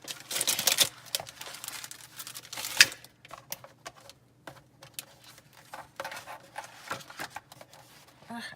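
Packing paper pulled and crinkled out of a Little Bits subscription box, a run of close, dry rustles and crackles coming in bursts, louder at the start, with faint voices underneath.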